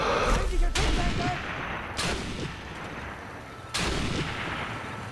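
Sniper rifle gunshots from the video game Sniper Elite 3: three sharp, loud reports, each with a rumbling tail, spaced a second or two apart over a steady game ambience.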